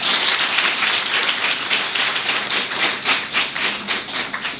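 An audience claps continuously and fairly loudly, a dense patter of many hands that swells and slightly thins, at a ceremony honouring the best girl students. No voices are heard over the applause.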